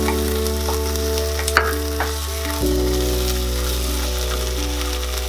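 Ginger paste, garlic paste and green chilies fry with browning onions for a street-style Indian egg keema, giving a steady close sizzle with a sharp spatter midway and a brief louder burst as more goes into the pan.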